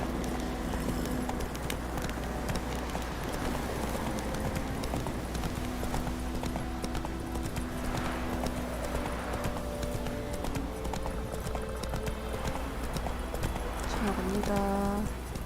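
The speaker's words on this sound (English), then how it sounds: "Whoa there, Roach" The horse Roach gallops in The Witcher 3, with steady rhythmic hoof clip-clops close up and continuous game ambience, a whinny-like tone near the end.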